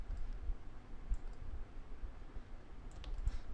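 Computer mouse clicks while working in Adobe Illustrator, faint and sparse: a few soft isolated clicks near 1.1 s and 3.0–3.3 s over a low room hiss, with no talking.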